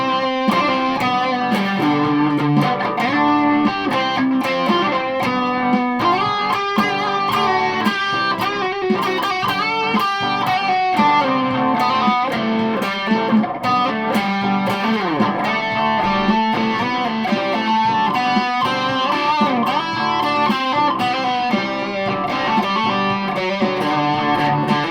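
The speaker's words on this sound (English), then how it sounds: "for a bit of distortion to bring it a wee bit more to" An electric guitar played through a distortion pedal on a Peavey Raptor Plus EXP gives a dense, continuous overdriven tone. Chords and notes ring steadily and loudly for the whole stretch, with no voices.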